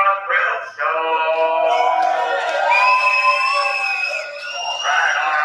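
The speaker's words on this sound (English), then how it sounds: "Who's ready for a thrill show?" A thrill-show audience cheers and shouts together, a loud, sustained wave of many voices with high whoops and children's screams rising over the roar.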